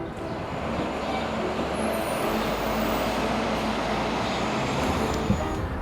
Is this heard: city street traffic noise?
yes